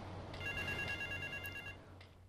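A phone rings in the GTA Vice City video game, a clear electronic trill repeating over a steady low background hum, with no talking.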